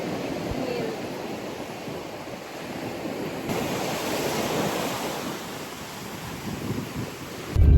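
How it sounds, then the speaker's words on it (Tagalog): Heavy rain pours at Patapat Viaduct, a dense steady hiss mixed with wind gusts, loud and continuous throughout with a brief knock at the end. "Ang lakas nga dito ng ulan guys"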